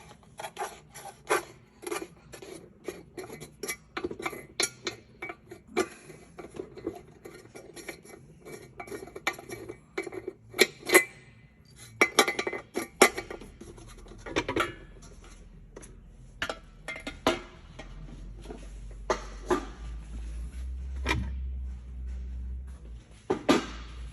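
Intermittent metallic clinks, taps and scrapes come from close by as the air cleaner assembly is pulled off an International Scout II engine, with quiet gaps between them and no talking.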